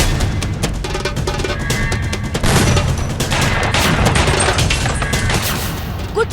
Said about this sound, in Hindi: ट्रैफिक के बीच ताबड़तोड़ बम, गोलियां, बारूद गूंजने लगता है।